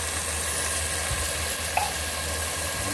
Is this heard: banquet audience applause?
no